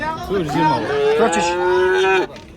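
A cow at a cattle market moos loudly and at length, one long drawn-out call with a wavering pitch, close by, with faint background murmur.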